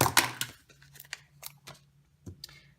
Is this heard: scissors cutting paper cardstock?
yes